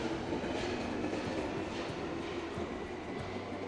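A train rumbles and rattles steadily close by at a London station platform, a continuous low roar of wheels on track.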